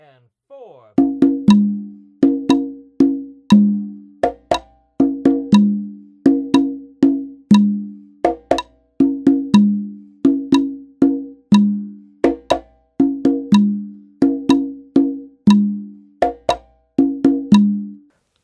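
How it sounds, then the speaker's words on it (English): Hand-played conga drums hold a steady, repeating groove of crisp slaps and open tones that land in even, clipped strokes, close up and alone without talk. "The secret to this conga pattern is consistency with the hand selection for each drum, sound, and rhythm."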